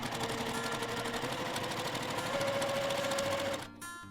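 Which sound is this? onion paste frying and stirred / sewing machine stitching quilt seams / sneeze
sewing machine stitching quilt seams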